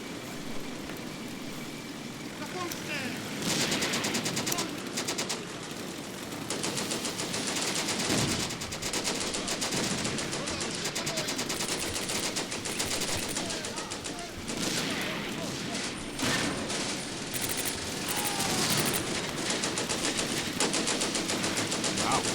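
Bren carrier machine guns fire on advancing infantry in the Combat Mission game, a dense, continuous rattle of automatic gunfire with rumbling battle noise that holds steady at high loudness throughout.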